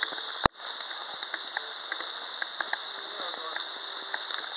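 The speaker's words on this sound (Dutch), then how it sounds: "Ook al regent het." Steady rain falls outdoors as a dense, even hiss with scattered sharp drops tapping close by, plus one loud knock near the start.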